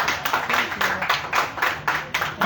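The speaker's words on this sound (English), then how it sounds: "you are clapping" Clapping from an audience at a media address by a broadcasting service director general, a moderately loud patter of hand claps in slightly uneven bursts, with faint voices in the background.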